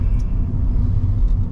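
A van rolls along a road with a steady, close low rumble of engine and tyres, constant and unbroken, with no voices.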